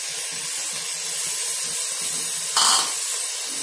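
Washed, partly dried rice is tipped into a hot cooking pan for khichdi, giving a brief loud hissing rush over a constant background sizzle.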